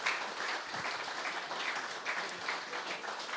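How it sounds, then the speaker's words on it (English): Audience applause for a group of AFL Premiership players at a live event, a steady wash of clapping across the whole stretch at moderate level with no voices over it. "Round of applause for the players."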